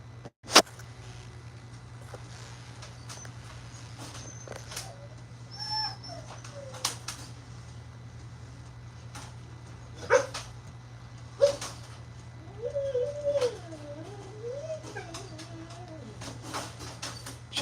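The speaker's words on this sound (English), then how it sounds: "It's my dog." A dog whimpers and gives a few short barks at a livestream, the whines rising and falling in separate bursts over a steady low hum, with quiet stretches between.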